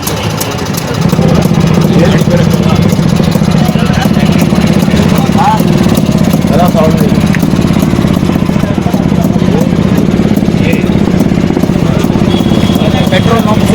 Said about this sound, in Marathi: ही पण एक किकमध्ये गाडी चालू आणि वर्ल्ड वॉर 2 मध्ये ही वापरलेली गाडी